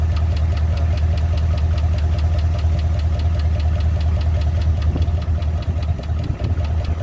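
Car engine idling with a steady, rhythmic ticking knock from a bad lifter, close and loud, running continuously with a faint voice briefly near the end.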